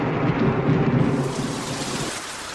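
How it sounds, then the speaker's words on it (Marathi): Heavy rain pours down with a deep, rolling thunder rumble, loud and close, fading slightly toward the end. "पाऊस काय थांबायचं नाव घे नाही"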